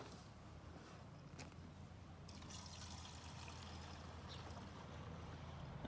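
Petrol poured from a container into the fuel tank of a Victa four-stroke lawn mower, a faint, steady liquid trickle that grows slightly toward the end.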